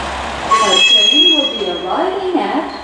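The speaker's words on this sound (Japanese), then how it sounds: "列車が到着します。" A train pulls into platform 4 at Takaoka Station, Japan. Rumbling and rolling noise carries a high metallic squeal and clinks, while a recorded Japanese announcement voice speaks over it throughout.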